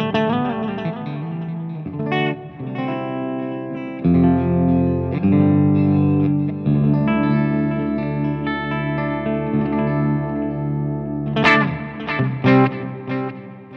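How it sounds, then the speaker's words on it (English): An electric guitar plays through a Laney Loud Pedal 60-watt amp into a PV5150 4x12 cabinet with reverb, with sustained chords and single notes ringing out, then sharp picked bursts near the end, no talking. "It's going to put some reverb into the front of the amp pedal."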